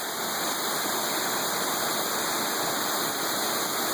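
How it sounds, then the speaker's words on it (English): A big waterfall roars outdoors, a dense, unbroken wash of rushing water that stays loud and even throughout, with no voices over it. "That's the biggest I've seen the waterfall in a long time."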